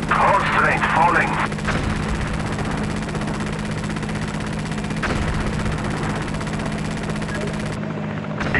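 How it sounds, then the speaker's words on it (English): Gunfire strikes the player's unit in the video game Hostile Waters, sharp bursts landing early and again near the five-second mark over a steady droning engine hum, with radio-style voices talking throughout. "I'm being shot at."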